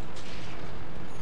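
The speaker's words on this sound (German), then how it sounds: "Hier versuche ich durchs Haus zu schießen, treffe aber nicht." A tank cannon shot from an E75 in World of Tanks, one loud, broad burst of booming noise that fills the whole moment with no talk.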